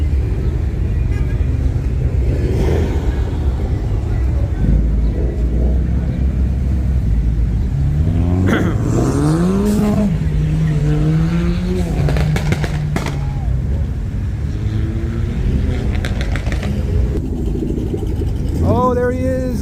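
A Ford Shelby GT350 pulls away from a car meet with a rising, rumbling engine note and gear changes, close then fading, under steady crowd chatter and nearby talking.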